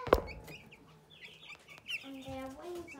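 A sharp, loud cluck at the start, followed by softer chicken clucks and small chirps scattered over a few seconds, fairly close by.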